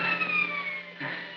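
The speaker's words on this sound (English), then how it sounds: "Sounds like police sirens." A police siren wails in the distance, a thin wavering tone that dips and then rises again, alone, with no voices.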